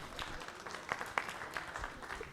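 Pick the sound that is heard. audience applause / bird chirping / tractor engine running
audience applause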